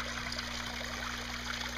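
Two 42-watt aquarium water pumps trickle water into an outdoor goldfish pool, a steady close gurgling flow with a constant low hum underneath.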